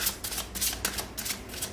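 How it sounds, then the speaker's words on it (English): Tarot cards are shuffled by hand close up, with a quick series of soft papery riffles and flicks coming in an uneven rhythm. The sound is fairly quiet and there is no talking. "I'm going to shuffle the cards a bit"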